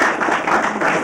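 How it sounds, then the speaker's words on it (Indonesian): Studio audience clapping for Pak Faruk, a brief, loud burst of dense applause lasting about a second. "Tepuk tangan sekali lagi Pak Faruk"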